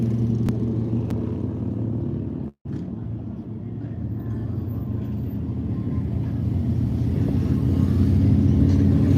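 Old school hot rods and motorcycles rumble at a crowded Arizona Bike Week, a continuous low engine drone close by with a brief dropout partway, then building slightly louder toward the end.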